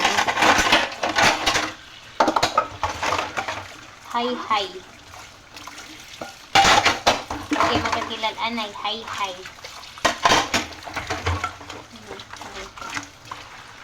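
Dishes being washed at a sink under running water, with scattered clinks and clatters of plates and cutlery between stretches of continuous chatter from someone talking throughout.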